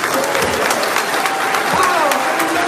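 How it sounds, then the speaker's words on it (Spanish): Applause for guests in a church gathering, loud continuous clapping close by, with voices calling out over it throughout. "Un aplauso para los invitados."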